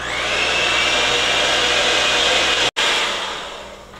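Electric hand mixer beating sugar cookie dough after lemon juice is added, a loud, steady close whir holding for about four seconds with one brief cut-out near the end.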